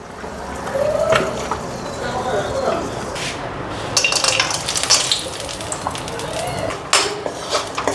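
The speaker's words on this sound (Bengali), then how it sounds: "এদিকে বড়িটাও ভাজা লিতেছি" Bori, small lentil dumplings, frying in a pan: a steady sizzle runs beneath scattered metallic clinks and scrapes of a utensil stirring, while a voice talks intermittently nearby.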